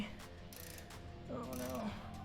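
A ratchet wrench loosening a motorbike oil drain bolt, close faint clicking of the pawl followed by a brief creaking strain, no talk.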